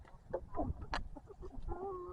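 Chickens cluck and squawk in a short burst of overlapping calls, close by and moderately loud, with one sharper higher cry in the middle and steadier tones near the end.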